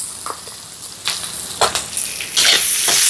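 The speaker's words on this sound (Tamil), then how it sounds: "இப்போ வெங்காயம் எல்லாம் வதங்கி வருது. இஞ்சி பூண்டு பேஸ்ட் கொஞ்சம் சேர்ப்போம்" Onions, green chillies and ginger-garlic paste sizzle in hot oil in a pan, a steady close frying hiss broken by bursts of crackling and stirring scrapes.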